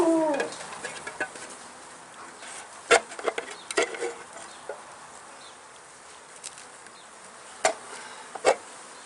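Honey bees in a newly installed package hive, during a beginner's package install, give off a steady low buzz with occasional sharp knocks and clicks from the hive tool and feeder can nearby.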